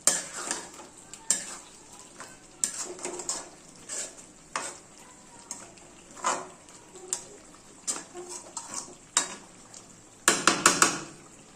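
Chicken being mixed with spices in a pan, with a spoon scraping and clinking against the metal in irregular bursts over a faint sizzle, close and alone.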